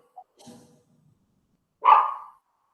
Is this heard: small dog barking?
yes